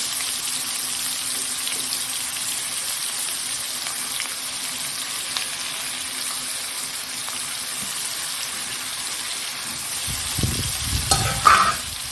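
Onion and tomato fry in a pan with a constant close sizzle and hiss, a faint hum underneath, and a burst of clattering stirring and knocks near the end; no one speaks.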